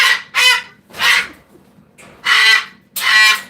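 Onni, an angry four-year-old cockatoo, lets out five loud, harsh squawks close by, in uneven bursts separated by short pauses.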